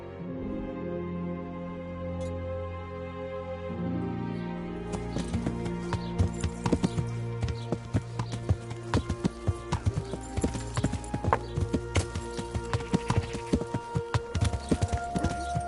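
Horse hooves clip-clop in Kingdom Come: Deliverance. The rhythmic hoofbeats start partway through and continue at a steady walking pace over layered medieval game music and ambience.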